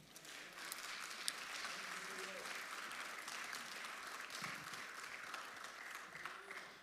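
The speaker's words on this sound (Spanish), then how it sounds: "Dele un aplauso al Señor." A church congregation claps together during a sermon, a dense, steady patter of many hands sustained for several seconds, heard at moderate distance with faint voices mixed in.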